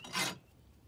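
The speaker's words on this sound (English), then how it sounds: "I actually like to go at it with the fine side of a farrier's rasp" The fine side of a farrier's rasp scrapes once across the soft refractory edges of a freshly molded ribbon burner, a short, faint rasping stroke that quickly fades to quiet.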